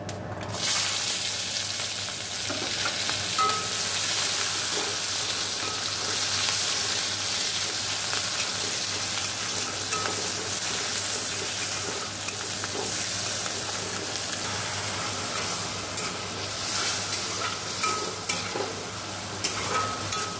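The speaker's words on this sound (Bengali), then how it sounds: "এবার ফোড়ন দেবো, জিরে শুকনো লঙ্কা" Cumin seeds and dried red chillies tempering in hot oil in a home kitchen, after fried pabda fish, cauliflower and potato, give a steady, close, loud sizzle with crackling and stirring throughout, no talk.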